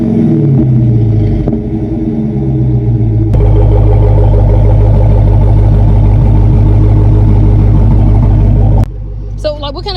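A Dodge Charger SRT Hellcat Redeye Widebody idles with a deep, loud exhaust rumble, close by and steady, cutting off abruptly near the end, with voices talking over it.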